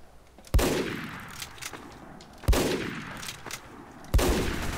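Three sharp gunshots from a rifle in the video game Team Fortress 2, spaced about two seconds apart, each loud and close with a short ringing tail, and no talking.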